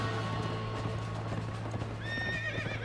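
Horse in the prison-escape video game The Escapists 2, hooves clip-clopping steadily at close range, then a rising whinny near the end.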